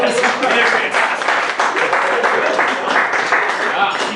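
Audience at a corporate comedy and mentalism event applauds, a dense sustained wash of clapping from many hands lasting several seconds, loud and close, with a voice speaking over it.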